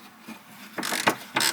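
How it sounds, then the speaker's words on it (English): A ratchet with an extension and socket works on the front bumper bolts inside the wheel arch of a Ferrari 360, giving a few short, close bursts of clicking after a quiet start. "an extension and socket should be able to get these two undone."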